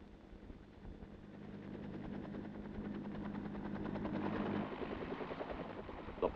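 Military helicopter landing in a landing zone during an evacuation of wounded, a steady rotor thrum that builds gradually and stays moderately distant, with a faint voice briefly present.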